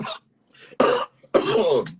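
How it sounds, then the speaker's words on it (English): Three harsh coughs close by, a short one, then two longer, rougher bursts with brief pauses between them. "have a bit of a cough this morning"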